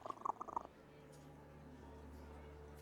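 A cat purrs softly and steadily in a video game tavern, a low continuous rumble after a brief burst of sounds at the start.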